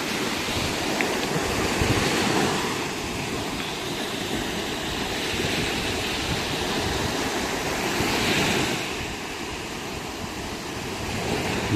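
Ocean waves wash steadily onto a sea beach, a continuous broad roar of surf with gentle swells and some wind buffeting, with no voices over it.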